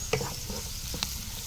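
Chopped garlic sizzles softly in hot oil for a cowpea kuzhambu, with a couple of sharp scraping stirs of a spoon against the pan over a steady low fry, and no voices.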